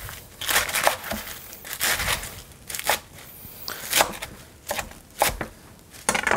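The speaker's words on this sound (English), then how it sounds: "just start chopping" A knife chops fresh washed lettuce on a cutting board for a salad, giving a run of crisp, crunchy cuts in an uneven rhythm, close and fairly loud, with no talking.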